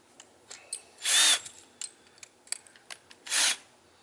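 A Harbor Freight power drill with a titanium oxide bit whines through metal in two short bursts, about a second each, with clicks and clanks of handling in between.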